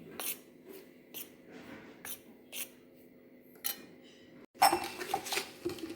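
Nacho dough mixed with a spoonful of hot oil in a bowl, a spoon clinking and scraping against the sides in a rhythm of short knocks, then a louder burst of mixing at the end.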